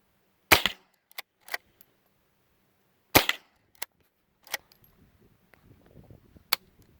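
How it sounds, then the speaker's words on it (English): Browning BL-22 rifle, maple stock edition, firing repeatedly: sharp cracks spaced irregularly, a few loud and others fainter, with small mechanical clicks between them and near the end. "You just keep shooting."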